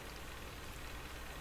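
Steady rainfall in the game Sword & Sworcery EP, beside a well with a broad wooden roof, makes a soft, even hiss of drops that stays faint and unchanging throughout.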